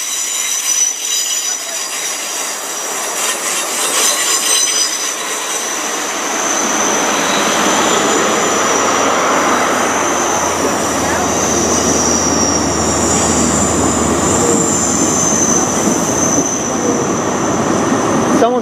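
A train pulls out of London Paddington station on the Great Western Main Line, running a few minutes late: a broad rumble and hiss builds after several seconds into a steady, loud roar laced with high, thin wheel squeals.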